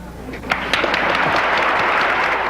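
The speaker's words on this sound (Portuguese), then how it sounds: "aplaude Castro Alves, aplaude Chico Xavier" An audience at a Spiritist gathering in Brazil claps in a dense, sustained round of applause, loud and close, building after a couple of sharper initial claps.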